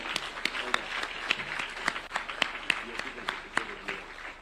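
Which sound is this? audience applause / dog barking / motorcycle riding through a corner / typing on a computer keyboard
audience applause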